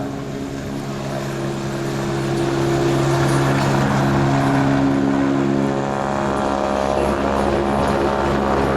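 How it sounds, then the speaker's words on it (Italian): A Guardia di Finanza helicopter flies at the Jesolo Air Show 2019 with a loud, steady drone of rotor and turbine. The pitch shifts slightly as it passes, and no voices sound over it. "L'elicottero saluta il pubblico dell'Air Show di Jesolo"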